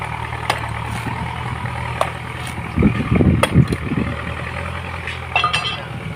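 A tractor engine idles nearby with a steady low rumble, overlaid by occasional sharp clicks and a brief burst of louder knocking and scraping near the middle.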